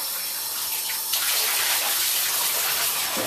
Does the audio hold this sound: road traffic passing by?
no